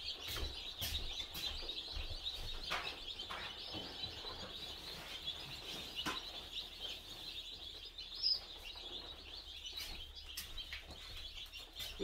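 Chicks chirping near feeders in a poultry setting, a steady high-pitched cheeping chorus that is faint and continuous, with no talking.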